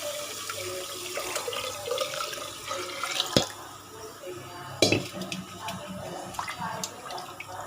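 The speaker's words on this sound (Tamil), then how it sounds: "அது கூட வந்து தண்ணி ஊற்றுறேன்." Water is poured over washed rice in a kitchen vessel at home, a steady running splash with some clinks of the pot and a couple of sharper knocks, close and moderately loud.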